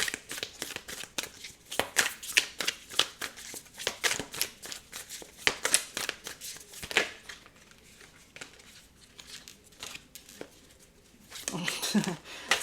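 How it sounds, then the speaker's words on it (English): Tarot cards are shuffled by hand in quick repeated riffling bursts, crisp and close, with brief pauses and a soft voice murmuring near the end. "Sorry, the cards didn't actually fall out, but just as I stopped to shuffle again"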